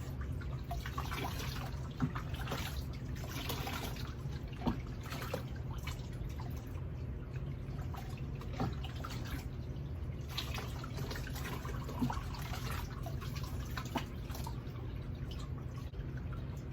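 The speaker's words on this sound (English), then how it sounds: "you're going to rinse with the cup" Water poured from a cup to rinse a Bichon Frise during a bath, a steady trickling and dripping splash that runs continuously and sits close, with small drips scattered throughout.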